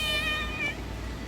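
A house cat lets out a single drawn-out meow, close and fairly clear, lasting under a second before fading into quiet room tone.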